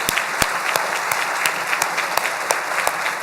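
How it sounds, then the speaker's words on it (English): A room of guests at a 2019 charity breakfast claps steadily for honored founding members, a continuous dense patter with a few sharp louder claps standing out, close and sustained throughout. "Let's give these folks a round of applause"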